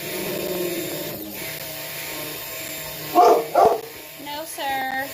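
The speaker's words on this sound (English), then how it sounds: "No need to bark." A dog indoors gives two short, loud barks in quick succession during holiday soap making, amid a low background hum and people talking around it.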